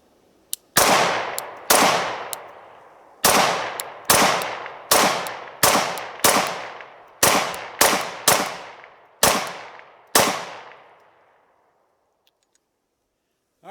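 Gen 5 Glock 19 pistol fired in a series of about eleven sharp, loud shots at an uneven pace, each with a short decaying echo, followed by quiet.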